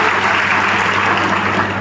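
An audience at a political rally in Latur claps. Steady, loud applause from a crowd holds evenly throughout, with a faint electrical hum running underneath.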